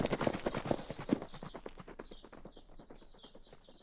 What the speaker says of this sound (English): Let's dismount and release the horses.